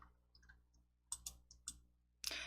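A computer mouse gives a handful of quiet, crisp clicks at irregular intervals during a PowerPoint exercise, each one sharp and brief against near silence.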